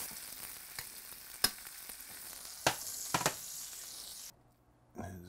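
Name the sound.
food sizzling as it goes into a very hot pan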